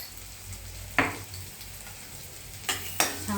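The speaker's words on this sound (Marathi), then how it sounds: "छान परतून घ्यायचं आहे." Salt and goda masala being sautéed in a pan, with a low steady sizzle broken by a few sharp spoon scrapes and knocks against the metal, no voices.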